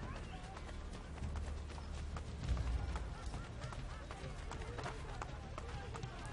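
A horse gallops in Assassin's Creed Brotherhood with faint, rapid hoofbeats under steady game ambience, and a voice speaks over it.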